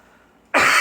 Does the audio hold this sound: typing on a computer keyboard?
no